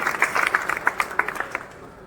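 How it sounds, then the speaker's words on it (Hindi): Scattered audience clapping for prize-winning students at a ceremony, a couple of seconds of distinct claps that thin out and fade quickly. "एक बार जोरदार तालियां हो जाएं।"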